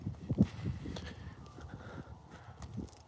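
An ex-racehorse's hooves make soft, irregular clip-clop thuds on the ground, close and low, heard against faint outdoor background.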